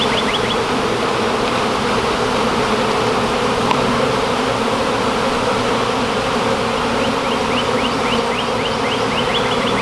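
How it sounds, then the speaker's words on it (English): Bees buzz steadily and close around a yucca tree, a dense droning hum with occasional higher whines as individual insects pass near. "Oh, these bees are chill."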